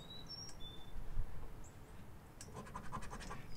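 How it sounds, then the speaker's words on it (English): Faint, thin bird chirps sound outdoors near a pecan tree, under steady close-up scratching and rustling of paper, all at a low level. "Hear the birds."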